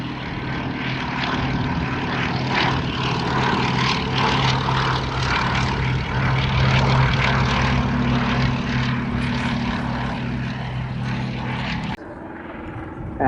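Classic RAF propeller training aircraft at the Shuttleworth air show, a steady, droning piston engine and propeller hum sustained throughout, fairly loud and close before dropping off sharply near the end.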